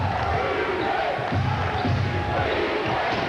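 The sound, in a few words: basketball crowd cheering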